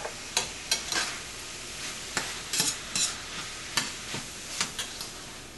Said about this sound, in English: I've been browning my meat here for a little bit with all the spices and everything added to it